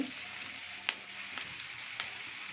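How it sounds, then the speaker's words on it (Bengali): Onions frying in a pan for a tilapia curry, a soft, quiet sizzle with a few scattered crackles and pops. "এখানে পেঁয়াজগুলো ভাজা ভাজা হয়ে যাচ্ছে"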